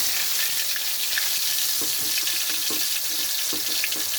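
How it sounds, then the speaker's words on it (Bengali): Small fish frying in hot mustard oil in a wok, a steady loud broadband sizzle throughout with scattered soft clinks and pops, no talking. "তো এখানে আমি মাছগুলো ছেড়ে দিচ্ছি ভাজার জন্য।"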